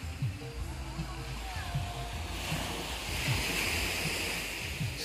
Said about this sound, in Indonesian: kita sudah sampai di Pantai Tengket